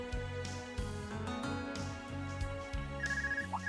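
A phone rings in Trails of Cold Steel III, a short repeating electronic ringtone heard over steady game background music, fairly loud and continuous across the moment.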